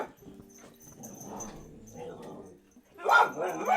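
A dog indoors gives soft whimpers and yips, then a sharper burst of barking near the end, close and clear, while a person talks nearby.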